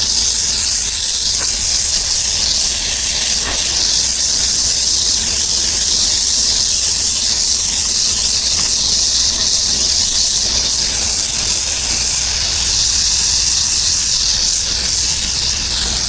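A pressure washer cutting gun blasts water during commercial concrete and building washing, producing a loud, constant hiss of spray that holds steady and close throughout, with no pauses.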